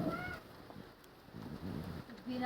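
Pet pigeons kept at a home in Nepal coo in low, soft, rolling bursts from close by. A second round of cooing follows a brief pause, with some faint background noise.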